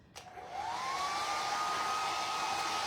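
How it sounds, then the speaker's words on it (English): A hair dryer switches on with a click and quickly spins up to a steady, loud whooshing roar with a rising whine, blowing over a painted canvas indoors. "my hairdryer never stays plugged in"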